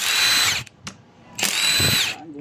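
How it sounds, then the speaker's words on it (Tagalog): Power drill or driver with an 8mm socket taking bolts out of a Honda motorcycle dash, two close whirring bursts of about half a second each, separated by a short pause with light clicks. "gumamit ng 8mm socket. Tanggalin ang mga bolt."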